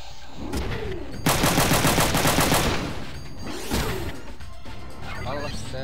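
Gunfire in the PlayStation game Front Mission 3 during a tunnel battle: a loud rapid burst of automatic fire in the middle, then sweeping impacts and further crashes, with a voice speaking over parts.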